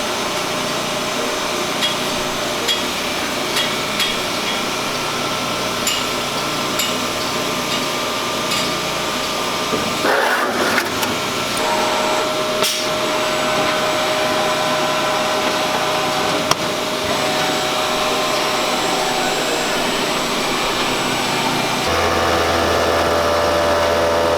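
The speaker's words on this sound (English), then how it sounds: "I'm just spinning this cutter a little wee bit so it gets a fresh cutting edge on it." A power tool spins a cutter on the deck of a Four Winns boat during a restoration, giving a steady, loud, continuous whirring hum throughout with a brief dip and shift midway.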